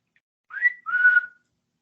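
A man whistles two rising-then-level notes in imitation of a Bigfoot call in central Minnesota, the first short and the second longer and steady, clear and close with silence around them.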